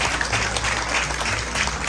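Priests and guests at a Catholic family's 42nd anniversary celebration give the family a long round of applause, a dense, even clapping that carries steadily throughout.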